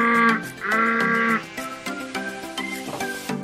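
Blocky sheep in Minecraft bleat in a loud, close, drawn-out call followed by a few shorter overlapping bleats, with no talk.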